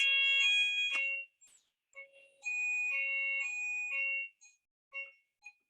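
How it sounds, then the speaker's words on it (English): A building fire alarm test sounding: bright, high electronic alarm tones in repeated bursts and held notes, some long and some short, fairly clear against a quiet background. "that's our fire alarm right on cue."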